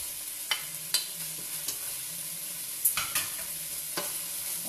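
Chicken, ham heel and chorizo being stirred in a cooking pot, with a soft steady sizzle beneath several sharp scraping clicks of the utensil against the pan, close and moderately quiet, no talking.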